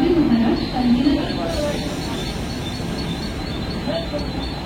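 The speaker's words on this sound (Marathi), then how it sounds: "local arrive on platform number 2" Mumbai local train arriving at a platform at night: a steady rumble of rolling coaches under a busy station's background noise, with a brief tonal squeal early on and a voice speaking over it.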